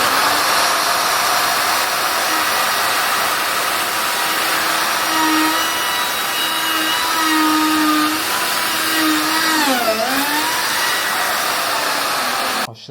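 A router planing wood on a router sled whines loudly and steadily alongside an attached vacuum's drone, the pitch dipping briefly as it bites into the wood near the end.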